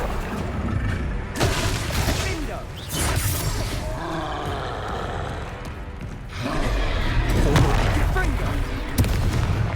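Gameplay from Hogwarts Legacy in which the Confringo explosive spell is cast: several loud blasts and crashes over busy combat noise, with voices speaking during the battle.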